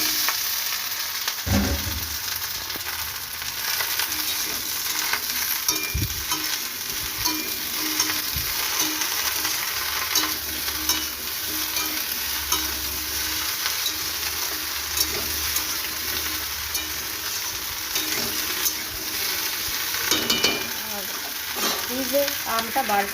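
Onion and garlic fry in a pan with a loud, continuous sizzle and crackle, broken by a few scraping stirs and knocks of a utensil against the pan, with no talking.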